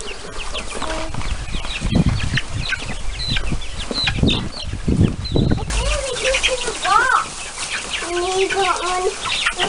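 Chickens cluck and squawk close by while being carried over to a new coop, with bursts of wing flapping and rustling handling noise; people talk in between.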